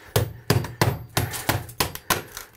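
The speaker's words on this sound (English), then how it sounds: "we want to pull off the entire row of tile" Old tile is chipped and pried off a bathroom wall above a tub with a hand tool, giving seven sharp, evenly spaced knocks and cracks, close and fairly loud, with no talking.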